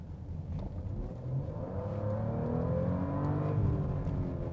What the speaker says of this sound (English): And then I can really hammer the throttle.